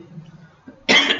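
A single harsh cough bursts out near the microphone during a lecture, after a moment of faint low murmuring.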